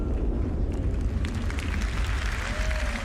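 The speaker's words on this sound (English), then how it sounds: "and the explosion itself." A MOAB bomb explodes in the video game Star Citizen, producing a sustained heavy rumble with a roaring, debris-filled wash that holds steady and loud throughout.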